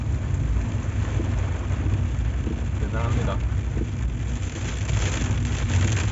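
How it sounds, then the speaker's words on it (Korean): Heavy rain pours during a bike climb of the Stelvio Pass in the Italian Alps, a steady, dense hiss and roar filling the whole stretch while someone speaks over it. "비가 너무 많이 오네요"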